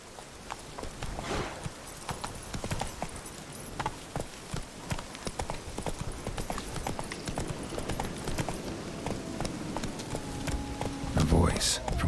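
Horse hooves clip-clopping at a steady gallop in the video game The Witcher 3: Wild Hunt, a rapid continuous rhythm under game ambience and a voice, moderately close.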